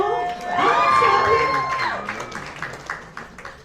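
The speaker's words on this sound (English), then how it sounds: "You can clap for that," Comedy club crowd at The IceHouse in Pasadena bursts into cheering, whoops and clapping, loud at first then thinning into scattered claps, with a performer's voice over it.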